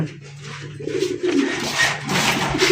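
Pigeons coo in a cage, soft rolling calls overlapping close by against a low steady hum, rising in a few swells.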